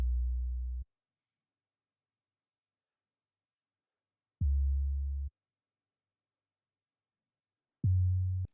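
Three isolated low synth bass notes, a sustained sub-heavy tone held about a second each, separated by long silences in a sparse Afrobeat production.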